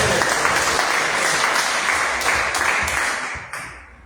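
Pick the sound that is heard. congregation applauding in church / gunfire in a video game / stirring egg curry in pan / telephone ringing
congregation applauding in church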